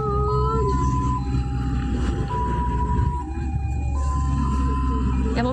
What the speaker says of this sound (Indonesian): inilah iring-iringan ambulans yang mengevakuasi belasan korban tewas.